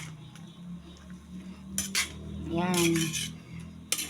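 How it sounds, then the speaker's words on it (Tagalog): A metal utensil clanks and scrapes against a cooking pot while mixed vegetables are stirred, with a wet squish and sharp knocks; a voice speaks briefly at the start. "Haluin ko."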